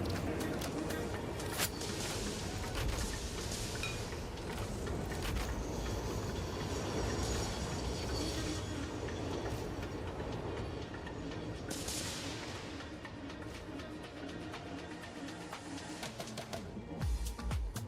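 A train runs steadily through a video game's rail system, with a continuous rolling rumble and faint clattering carrying on for the whole stretch. Near the end it briefly thins out and then picks up again.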